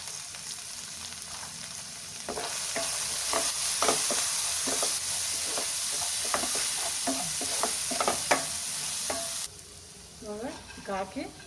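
Roasted french fries being stirred and mixed in a hot pan: a steady sizzle with repeated scraping and clattering strokes, close and fairly loud, then quieter, sparser stirring near the end, with no talking.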